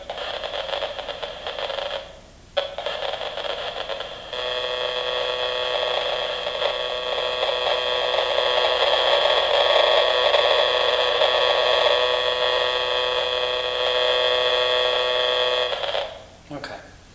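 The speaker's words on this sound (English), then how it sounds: "So that was translating the signals coming out of this phone" A radiation meter turns a cell phone's wireless signals into sound as the phone leaves airplane mode. A loud, steady electronic buzzing drone follows a short choppy start and holds for about twelve seconds before cutting off.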